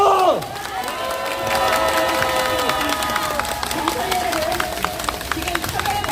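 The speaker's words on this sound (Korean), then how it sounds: "보다 힘찬 박수와 함성으로 모시겠습니다." A crowd at a weekly outdoor rally in Korea applauds and cheers steadily and loudly for several seconds, with a continuous wash of clapping and raised voices.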